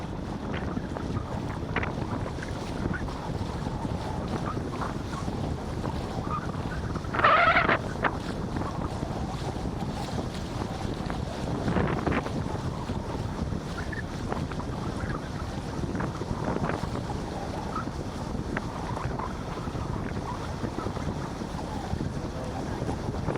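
Strong wind roars across the deck of a tour boat cruising past Grey Glacier on Lago Grey in Torres del Paine, Patagonia, a constant loud rushing buffet with engine rumble and water noise beneath.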